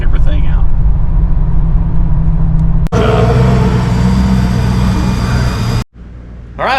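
A Buick GN's engine drones loudly and steadily on a shakedown run, interrupted by a brief cut and a shift in tone, with a voice talking over it.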